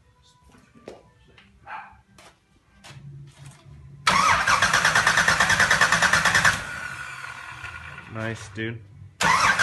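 A Pontiac 400 V8 cranks and fires up for the first time, catching abruptly into a loud, rough roar that runs for a couple of seconds, then cuts off and restarts near the end. People talk and a dog barks around it.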